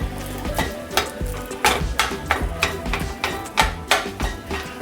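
Ground turkey with onion sizzles in a pan while a utensil chops and stirs it, giving steady frying hiss broken by rhythmic scraping taps about twice a second, close and clear with no talk.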